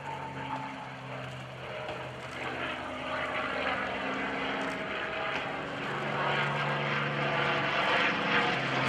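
A P-51D Mustang drones overhead at an airshow, its engine roar steady and loud, swelling slightly as it passes through a barrel roll.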